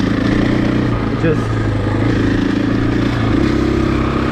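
A 2020 Husqvarna FE501S motorcycle engine drones steadily and loud while riding, a low continuous rumble with a rider briefly speaking over it.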